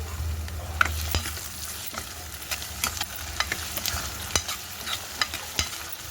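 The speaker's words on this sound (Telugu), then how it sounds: "ఉల్లిపాయలు సగం వడికి ఫ్రై అయిపోయాయి ఇంక పులుసులో ఫ్రై అవుతాయి" Onion and tomato pieces fry in a pan for a yam and egg curry, giving a steady soft sizzle broken by frequent sharp clinks and scrapes of a spoon stirring against the pan, close and with no talking.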